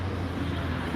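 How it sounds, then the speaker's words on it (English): Steady road traffic noise fills the scene, a dense low rumble of passing vehicles that stays constant and fairly loud with no clear gaps. "it's a bit noisy here with the traffic"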